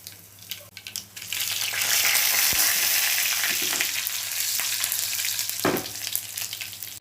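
Mustard seeds, dal, garlic and chillies hit hot oil for a pesarapappu charu tempering: faint clatter first, then a loud, sustained crackling sizzle with a few sharp pops and clinks, heard close with no talk.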